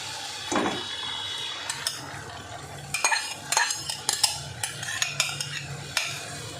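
Paneer pieces are stirred in hot spiced oil in a kadai, with a soft sizzle under repeated sharp scrapes and clinks of a spoon against the pan, close and fairly loud, coming in irregular bursts.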